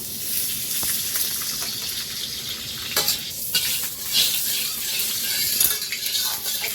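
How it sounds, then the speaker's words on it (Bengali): Steady sizzling and crackle of pumpkin and potato frying in ghee in a wok, with occasional stirring scrapes, fairly close and continuous throughout. "কড়াইয়ে একটু ঘি দেবো"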